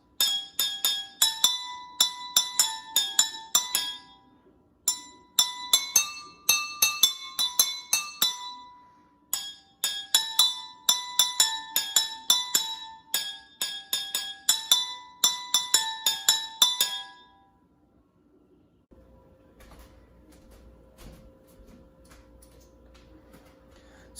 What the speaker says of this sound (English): you can find different glasses or more glasses and expand upon it and make even more notes